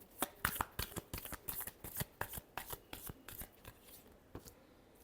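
Tarot cards shuffled during a Pisces relationship reading, heard as a close, steady run of crisp riffling bursts and soft slaps of card against card, with no voices.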